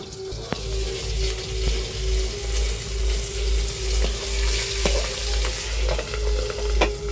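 Tangra fish frying in hot oil in a home kitchen, a loud continuous sizzle broken by sharp spluttering pops and crackles, close and steady with no voices.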